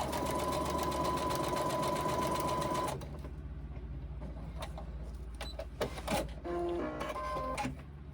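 A sewing machine top stitches fabric for a pocket pouch, whirring in a loud continuous run before pausing, then giving a few short bursts of stitching.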